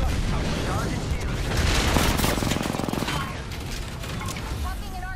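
Sustained exchange of gunfire and mechanical clatter in an Apex Legends-style shooter game, overlapping shots and booms under a voice talking throughout.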